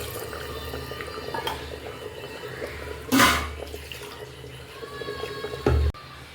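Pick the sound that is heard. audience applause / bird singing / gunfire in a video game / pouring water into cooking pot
pouring water into cooking pot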